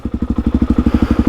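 A motorbike descends a steep hill in the Victorian High Country on engine compression, its low engine note pulsing in a fast, steady thumping rhythm, loud and close with no talk.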